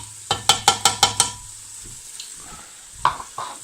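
Ginger and garlic tossed in with onions in a hot pan for an Indian chicken curry, giving a brief burst of crackly sizzling with about six quick scraping stir strokes, then a quieter simmering sizzle with a couple of later clinks and stirs.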